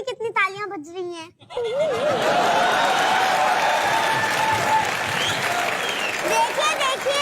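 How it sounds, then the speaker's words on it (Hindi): After a few spoken words at the start, an audience breaks into sustained applause that carries steadily to the end, with some laughter and voices mixed in. "बेटा एक बात देख भी रहे हैं मेरे लिए कितनी तालियां बज रही हैं।"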